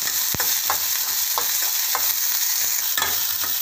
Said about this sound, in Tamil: ஸோ வெங்காயம் வதங்கிடுச்சு